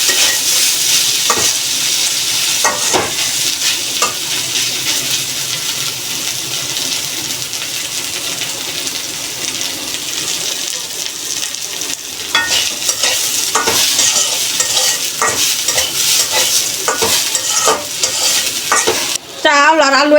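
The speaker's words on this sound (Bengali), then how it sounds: "পোলাওয়ের চাল আলুর সাথে ভাজবো।" Pulao rice and potatoes are stirred and fried together in a pan, giving a loud continuous sizzle with repeated scraping stirs and clatter.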